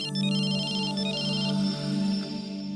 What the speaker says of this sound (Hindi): तो इसलिए हम ज्यादा वेट ना करते हुए अरुंधति को फोन करें